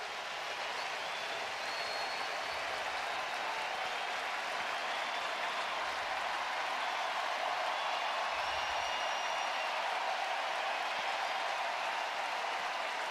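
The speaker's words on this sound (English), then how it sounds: "And here comes the crowd to their feet" Baseball stadium crowd rising to its feet, a broad continuous roar of cheering and applause that holds steady and swells slightly over about thirteen seconds, heard from a distance as a dense wash of noise.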